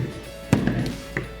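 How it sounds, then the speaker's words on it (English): Metal parts of an Electro Freeze CS705 milkshake machine knock and clank as the beater assembly is pulled out of the freezing cylinder, with one sharp thunk and a few lighter taps close by. "with both hands, we're gonna remove the beater assembly"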